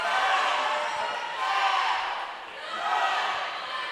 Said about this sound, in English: Very, very large amounts of applause from her teammates and comrades.